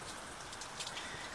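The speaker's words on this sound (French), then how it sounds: "Il pleut." Rain falling in Lapland, a steady, dense hiss of drops on surfaces, moderately quiet and unbroken, with no voices.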